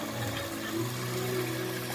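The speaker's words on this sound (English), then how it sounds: "I will add around 2 cups of water" Water is poured into a pan of cooking masala, a soft, steady gurgling stream with a rising pitch as it fills, close and quiet without talk.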